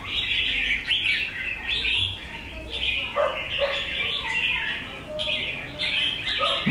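Songbird chirping in bursts of high trills and tweets, steady and fairly close, with a dog-like yelp and background rustle; a caged bird offered for sale, no speech.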